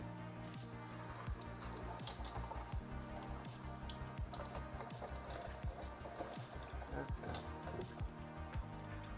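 Tap water runs steadily into a kitchen sink while something is rinsed under it during egg sandwich preparation. The splashing is continuous and close, with small drips and clatters on top.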